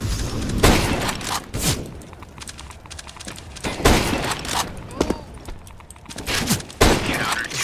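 CZ pistol shots in CS:GO, several sharp cracks in quick bursts spread over a few seconds, loud and close, with the game's ambient noise between them.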